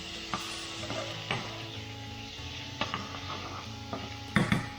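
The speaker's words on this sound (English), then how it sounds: "just fry the gnocchi for maybe another 10 or 15 seconds, just for some of that bacon fat, just to crisp it up slightly" Gnocchi fry in pancetta bacon fat in a pan, a faint steady sizzle under soft clinks and scrapes of stirring utensils against the pan.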